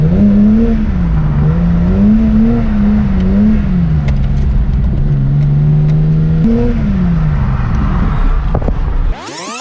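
A car drifts and spins out in a roundabout, its engine droning loud and close with rising and falling revs, then a sharp sweeping tyre squeal at the end.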